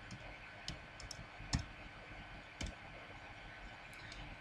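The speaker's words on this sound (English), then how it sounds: "So I will type purge." Computer keyboard typing while entering a command in CAD software: a handful of sparse, quiet key clicks with uneven gaps between them, close and alone.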